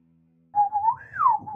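A person whistles to imitate a bird chirp, one clear warbling whistled phrase that rises and falls, close and alone after a brief quiet start.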